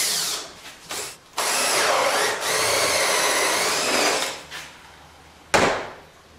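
A power drill bores a 5/8 inch hole about 1 inch deep while building a basic case, running in a long loud whine with a brief start, short pauses and a final burst at the end.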